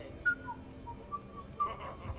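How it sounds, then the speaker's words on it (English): A character whistles a few short, soft notes in the video game Mass Effect 3, spaced apart over quiet background sound. "Are you whistling?"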